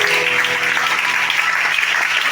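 Worshippers at a Sunday church service in Libreville, Gabon, clap loudly and continuously, a dense crackle of many hands with faint musical tones fading beneath it early on.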